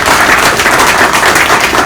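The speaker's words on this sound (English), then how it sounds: "Please give him a round of applause." Loud, close audience applause at a network-marketing launch event for Lance, a dense burst of clapping that fills the short stretch without pause.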